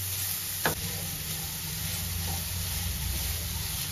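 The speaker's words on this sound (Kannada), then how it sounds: "ಸೊ ಇದನ್ನ ನೀಟಾಗಿ ಫ್ರೈ ಮಾಡ್ಕೊಳ್ಳೋಣ, ಒಂದು 5 ನಿಮಿಷ ನೀಟಾಗಿ ಫ್ರೈ ಮಾಡ್ಕೊಳ್ಳೋಣ" Grated carrots frying in ghee for carrot halwa give a steady, close hissing sizzle throughout, with one brief clink of a utensil early on and no talk.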